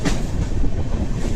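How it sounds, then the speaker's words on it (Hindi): The Vikramshila Express rolls past toward Ghaziabad on its run to Anand Vihar, a loud, close, steady rumble of wheels and carriages with rhythmic rail clatter and no voices. "ये है विक्रमशिला एक्सप्रेस"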